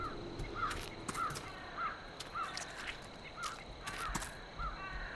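A crow caws repeatedly in the video game Cursed Forest, a steady series of short calls roughly every half second against faint ambient noise and occasional clicks.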